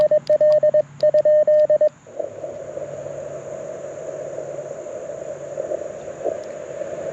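Morse code CW tones keyed from a Mountain Topper MTR4B V2 QRP radio, a steady pitched beep sent in quick bursts for about two seconds, then giving way to a continuous hiss of band noise with a faint droning tone.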